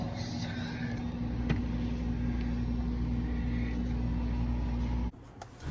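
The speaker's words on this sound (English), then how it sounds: "compressor's on. Fan motor's on." A Whirlpool upright freezer with its compressor and fan motor running, a steady low electrical hum with a constant whirring drone, close and unchanging until it cuts out abruptly near the end.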